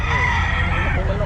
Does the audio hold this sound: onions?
no